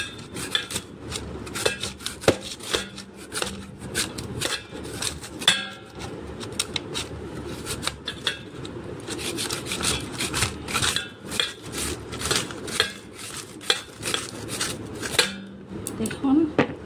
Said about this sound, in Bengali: আমি এটা দিয়ে ঘষে নেব আমগুলো